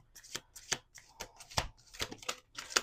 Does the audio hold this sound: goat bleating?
no